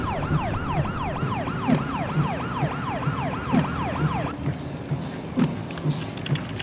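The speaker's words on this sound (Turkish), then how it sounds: "Ambulans hastane güzergahında ilerliyoruz." An ambulance siren wails in a rapid repeating up-and-down sweep over a rumbling engine while driving a hospital route, then the wail drops out and only road noise and thumps remain.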